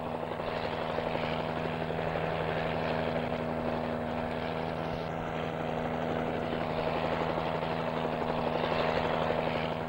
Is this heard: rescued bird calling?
no